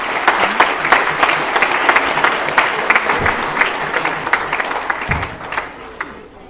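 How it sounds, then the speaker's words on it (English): An award ceremony audience breaks into sustained applause, a dense wash of many hands clapping steadily and fairly loud, with a few nearer, sharper claps standing out before it tapers off. "give them a special thank you and a round of applause"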